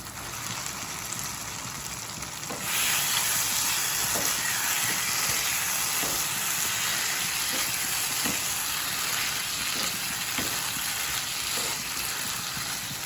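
Potatoes and soybean chunks fry in a pan with a little water, giving a steady broadband sizzle and hiss with faint periodic ticks, the sound growing fuller a few seconds in and holding constant.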